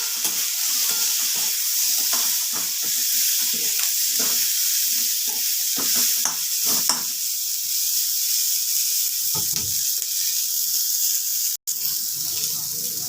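Soya chunks and cashews fry lightly in a pan on a gas stove, giving a steady, fairly loud sizzling hiss with intermittent scraping stirs and a brief clatter near the end.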